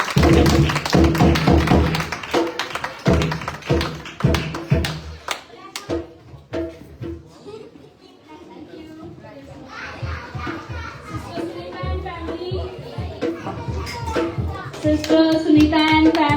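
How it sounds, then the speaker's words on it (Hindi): Hands clap at a Christmas celebration, a quick burst of many claps at the start that fades into children's chatter and playful voices. Scattered taps and claps return later. "तालियां बजाकर।"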